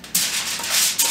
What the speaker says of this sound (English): you take your foil, lay it over your pan, and fit it over it